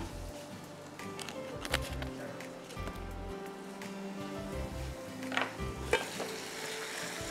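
Mutton sizzles and fries in a pot while being stirred, with scraping strokes of a spoon against metal at irregular intervals, loud and close, no talking.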